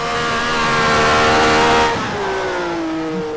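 A Tyrrell P34 six-wheeled race car in the racing game rFactor roars at high revs, its engine note holding steady before dropping sharply as the throttle lifts, then droning on at a lower pitch, loud and close.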